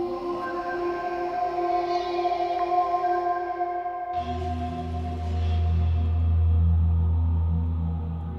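A single sustained Korg Triton synthesizer preset note rings out with rich harmonics, then shifts into a deeper, darker tone that swells and holds before fading slightly.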